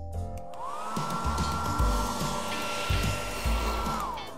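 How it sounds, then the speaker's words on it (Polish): A handheld hair dryer switches on and runs with a loud, steady high-pitched whine and rushing airflow, plus some bumps and handling thumps underneath as it is moved, with no voices. "Gdzie suszarka?"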